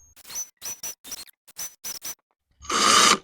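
A power drill whirs in a string of short bursts with pauses between them, then ends with one louder, longer buzzing run, close by.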